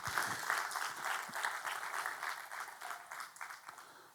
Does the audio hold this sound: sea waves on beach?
no